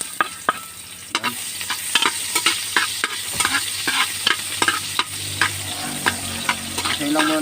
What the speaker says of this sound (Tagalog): gisayin na natin yung ating rekado